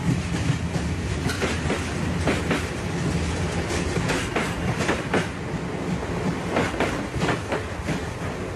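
Train running on an old railway track with worn, damaged wooden sleepers, a loud continuous rumble from close by with repeated clickety-clack wheel beats throughout, no voices.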